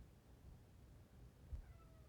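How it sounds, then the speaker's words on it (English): A house cat meows faintly in the background, a short thin cry rising out of a very quiet room. "If you hear my cat in the background"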